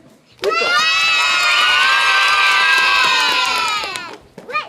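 More than twenty children shout and cheer together around a table in a French radio show, a loud sustained collective yell lasting several seconds before fading, with a few claps at the end.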